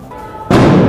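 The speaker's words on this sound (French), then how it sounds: "Ce que tu viens d'entendre c'est une Gli F4." A GLI-F4 stun grenade goes off at a street protest, a single loud, sharp blast that cuts in suddenly over quiet background and rings on with heavy broadband noise.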